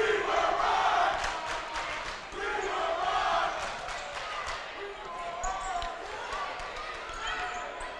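Rowdy home crowd at a women's college basketball game between Snow College and Utah State University-Eastern cheers and shouts in a gym, fairly distant, with a commentator talking over it and a ball bouncing.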